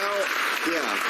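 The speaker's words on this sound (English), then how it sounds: "That applause says a lot." Studio audience applause on a late-night political talk show fills the short span as a dense, steady wash of clapping, with voices cutting through over it.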